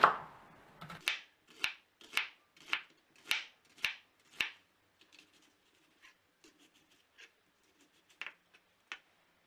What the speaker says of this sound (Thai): แล้วก็หั่นเป็นแว่นๆค่ะ แม่ซีจะหั่นแบบนี้เลยนะ